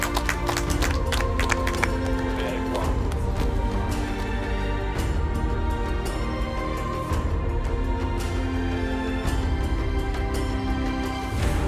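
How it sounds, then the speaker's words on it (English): Audience applause at a Survivor finale, dense steady clapping from a crowd, loud and continuous throughout with faint voices mixed in. "Round of applause."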